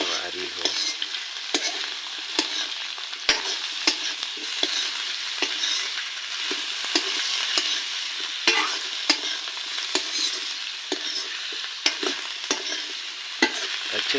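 Potatoes for Chhattisgarhi-style aloo bhunjiya fry in oil in a kadhai while a spoon stirs them, a continuous close sizzle broken by regular scraping clinks of the spoon against the pan.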